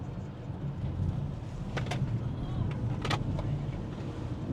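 A Kia EV6 electric car accelerating hard on a closed course, a steady low road and motor rumble with brief whooshing swells, heard from inside the cabin with faint voices.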